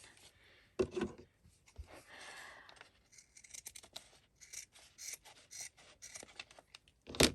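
Scissors snipping and trimming paper for a scrapbook page, a scattering of quiet close cuts and rustles with small taps, ending in a sharper snip.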